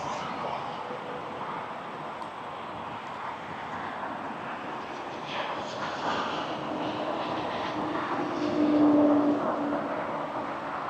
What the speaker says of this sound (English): coming in on approach right now is Porter Airlines